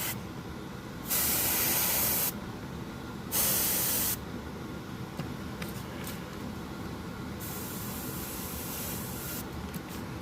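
Two short, loud aerosol bursts of spray paint hit miniatures up close, each a harsh hiss lasting about a second, followed by a quieter continuous background.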